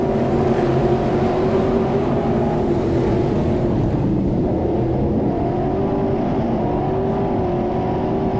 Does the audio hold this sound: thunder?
no